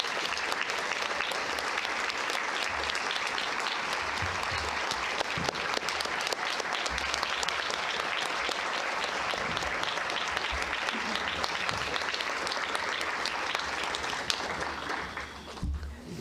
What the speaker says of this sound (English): give these special individuals a hearty, hearty round of applause